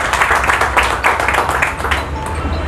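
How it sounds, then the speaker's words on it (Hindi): A crowd at a political party meeting claps for the chief guest, a loud, dense burst of applause that carries on steadily, with faint voices mixed in. "आप उनके लिए एक बार तालियां जरूर बजाएं।"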